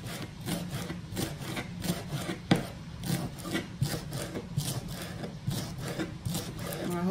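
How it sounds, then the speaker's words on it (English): A knife cuts cabbage and other vegetables for a fried cabbage and beef dish, giving steady rasping, scraping strokes close up, with one sharper chop partway through and no talk. "This knife seems to cut the veggies, okay?"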